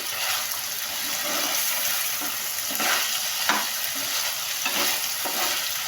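Vegetables and chicken fry for chicken shashlik in a hot pan, giving a steady loud sizzle with occasional stirring scrapes and bubbling throughout, no voices.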